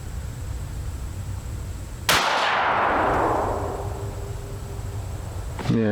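A single sharp AR-15 rifle shot fired at a target outdoors, loud and close, with a long fading echo rolling away afterward; the surroundings are otherwise quiet.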